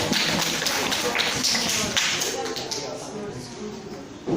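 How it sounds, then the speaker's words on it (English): Students in a beginner English class clap their hands in a quick burst of close claps over the first two seconds, then the sound trails off into quieter room noise. "clap your hands"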